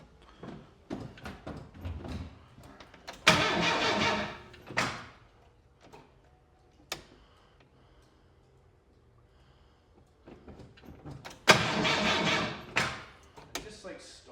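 A 1923 Ford Model T engine is cranked to start in two rough, churning bursts that turn over briefly and then stop short. Quieter handling noises and scattered talk fill the gaps between the bursts.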